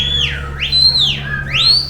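A person whistles through the teeth with the lower teeth pushed out, producing two loud, close, rising and falling pitch sweeps over a low steady hum.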